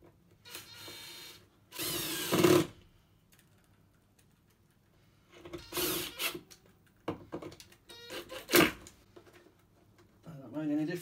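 A screwdriver drives cross-headed screws into an interior door handle in a series of short, close mechanical whirring bursts separated by quiet gaps.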